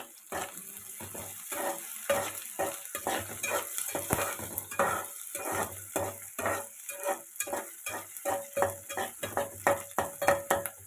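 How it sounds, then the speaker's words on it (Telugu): Onions fry in a pan for a bottle gourd milk curry, a faint crackling sizzle broken by rhythmic stirring scrapes that repeat steadily throughout, close by with no talking. "బాగా ఏగనివ్వాలి ఉల్లిపాయలు"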